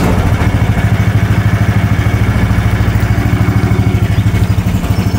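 A Predator 420 engine swapped into a Kawasaki Mule UTV runs with a loud, rapid, steady chugging putter close by, keeping an even beat throughout.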